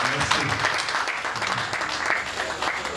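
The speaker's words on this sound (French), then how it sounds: "Avec vos applaudissements, s'il vous plaît." A small gathering claps for an honoree at a congratulation ceremony, a dense, steady round of applause close by with a murmur of voices underneath.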